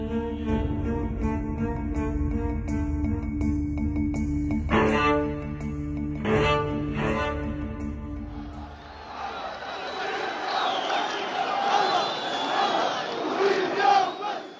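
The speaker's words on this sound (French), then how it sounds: "un bain de foule au milieu de ses partisans" A large outdoor crowd of Gaddafi's supporters chants and cheers around him in Libya, a dense roar of many voices with rhythmic shouted chanting at first, then a broader swelling cheer.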